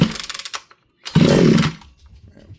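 A small unprimed engine with the choke on is yanked by its pull cord, first a rapid rattling pull, then a brief loud sputtering catch that fades back to quiet, heard close up.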